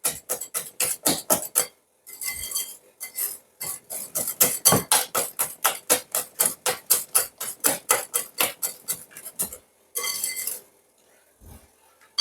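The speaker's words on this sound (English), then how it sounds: "I use the whisk and I'm kind of doing like this. What I'm doing, I'm whisking air" A whisk beaten briskly through almond cake batter in a bowl, a fast steady series of clinking strokes against the bowl, close and loud, with brief pauses between bursts and no talk.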